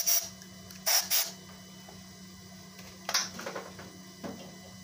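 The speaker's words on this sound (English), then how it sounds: "I'll just give that a little toot with the airline." A workshop compressed-air line gives a countersunk part a few short, sharp hissing blasts, three quick bursts separated by quiet pauses.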